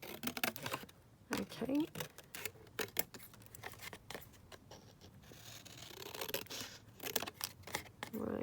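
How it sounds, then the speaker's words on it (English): Scissors snip through a postcard for a junk journal in a series of close, crisp cuts and paper rustles. A voice speaks briefly. "Let's just cut this down like this."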